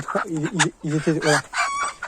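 Chickens and a rooster in a rural hamlet, a loud rooster crow in several rising and falling bursts mixed with clucking, close by, with no talking over it.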